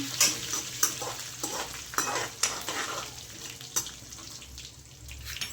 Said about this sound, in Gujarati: મીઠો લીમડો બધું મિક્સ કરી દઉં તલને.